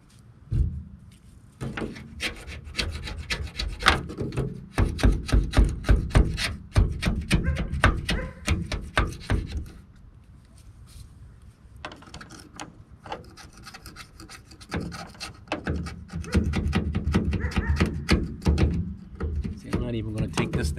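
Peeling paint being scraped off a Chevy van's body, close rhythmic rasping strokes in bursts with brief pauses, someone talking over parts of it.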